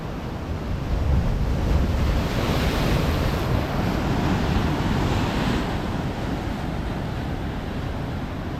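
Dark sea waves surge and crash near a breakwater on a beach road toward a river mouth. The roar is loud and continuous, with wind buffeting the microphone throughout and no voices.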